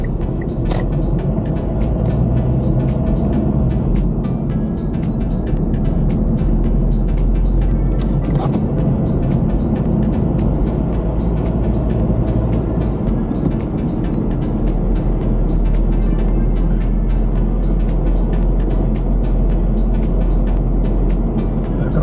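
A car pulls out of a driving test lot onto a side street in Klaipėda, with steady, loud engine and road rumble from inside the cabin throughout.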